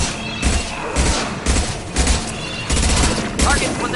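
Bursts of gunfire from the video game Mass Effect 2 crack out in quick volleys, several rapid clusters of shots spaced about half a second apart, loud and close.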